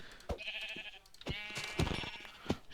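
Minecraft sheep bleat repeatedly in overlapping, wavering calls, several animals close by, with faint background noise between cries.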